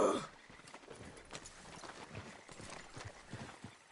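Soft, steady clip-clop of horse hooves in a quick trotting rhythm, faint and fairly even, with no voices, from the video game Red Dead Redemption 2.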